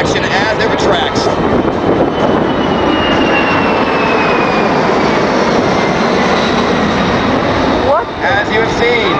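Boeing C-17 military transport jet flies past at an airshow, a loud, steady broadband jet roar with a slowly falling whine sustained across the whole stretch.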